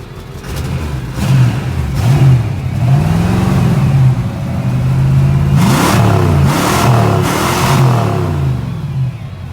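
A 5.0 Fox-body Ford Mustang engine revved repeatedly, loud and close, with rising and falling throttle blips over a steady rumble, several sharp revs clustered near the end, no voices.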